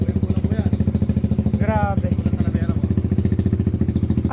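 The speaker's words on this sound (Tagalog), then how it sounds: "Ba't kayo gumagawa ng motor na maingay?" A loud Raider Fi motorcycle engine runs on a dyno at an ECU tuning shop, its fast, even firing pulses holding steady and close throughout, while a person briefly speaks over the noise.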